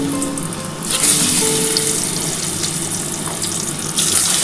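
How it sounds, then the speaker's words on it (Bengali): Potatoes frying in oil in a pan for a vegetarian soybean and potato curry, a steady, close sizzle that runs the whole time with slight swells in loudness and no talking. "আমি আলুটা দিয়ে দিলাম।"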